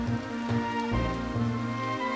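Steady rain hiss from the Pokémon FireRed video game runs continuously under prominent looping in-game music, fairly loud and even throughout.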